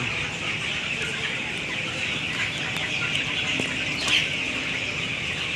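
Young 18-day-old farm chickens cluck steadily in a continuous flock chorus, with occasional sharper calls and a soft flutter of wings, close and fairly loud with no talking.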